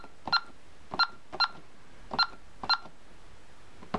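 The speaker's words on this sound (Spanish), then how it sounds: "aquí meteríamos el teléfono" A Honeywell Vista alarm panel emits a series of short DTMF keypad tones as a phone number is entered, five or six crisp beeps at uneven intervals over a quiet background.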